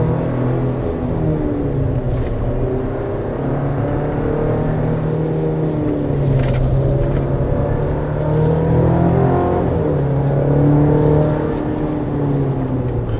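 A 2025 Chevrolet Colorado Z71 pickup engine hums and revs steadily at mid to high speed on a winding mountain road, rising and falling slightly in pitch, with continuous road and mechanical drone.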